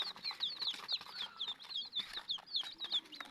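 Backyard chickens with their chicks cluck and chirp busily in quick, bright bursts while feeding, close by and fairly quiet, with soft wing flutters and no talking.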